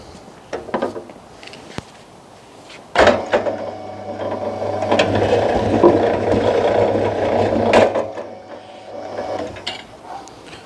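An EN10 wire stripping machine for recycling runs on smaller-diameter ASX cables, a mechanical whirring and clattering that starts with a sharp knock and holds steady for several seconds before easing off.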